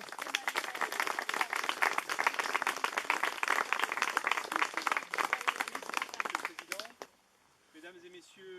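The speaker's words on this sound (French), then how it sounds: "Applaudissez-les." Audience applause at an outdoor inauguration ceremony, dense sustained clapping for about seven seconds before fading out, then a voice starts speaking.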